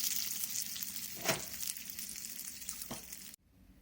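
Dried red chillies, curry leaves and urad dal sizzling in hot tempering oil for onion chutney: a steady, close crackle with a couple of brief stirring scrapes, then it cuts off abruptly just before the end.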